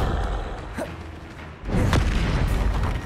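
A Confringo blast spell goes off in Hogwarts Legacy, played on PS5 during a battle. It lands as a loud booming burst over dense, continuous game noise, and a second heavy boom follows partway through.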